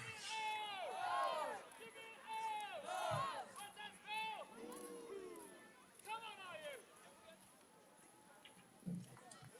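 An ultimate frisbee team cheers and shouts during a match, several voices chanting in rhythmic bursts of yells with a crowd feel, fairly close and lively, trailing off toward the end.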